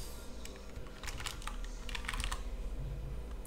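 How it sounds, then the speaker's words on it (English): Fingers type a word on a computer keyboard, a close run of quick, uneven key clicks with small bursts and pauses over a low background hum. "And we're going to type Inkscape."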